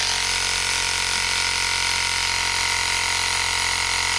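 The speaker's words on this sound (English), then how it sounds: "This is just running off the bike battery now. It's a lovely little hand pump. 12-volt motor." A small 12-volt electric tyre pump, hand-held, runs off a motorbike battery for a motorbike tyre, giving a loud, steady, unbroken motor whine and hiss, close to the microphone and alone.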